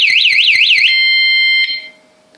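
Loud, shrill warble from an Antusi A6 bicycle anti-theft alarm, rising and falling rapidly before settling into a steady tone for a moment, then stopping and fading into near silence.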